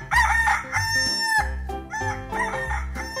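A rooster crows loudly and close by, two full cock-a-doodle-doo calls in a row.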